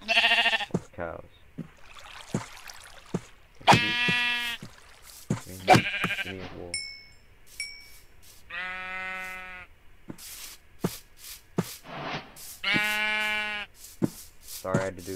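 Sheep bleat in the Minecraft video game, several short harmonic calls spaced through the clip, loud and close, with someone talking between and over them.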